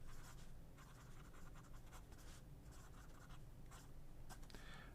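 An ADMOK M800 fountain pen with a wet, smooth nib writing fast on paper, a faint, close, continuous scratchy rustle broken by quick strokes and short lifts, with no voices.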